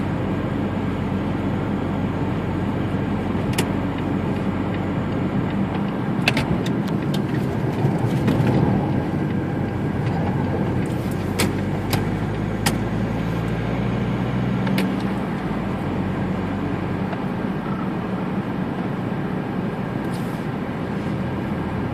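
Smart car cruising at 55 km/h, heard from inside the cabin: a steady low engine and road drone with tire rumble, a few faint clicks and rattles, no talk.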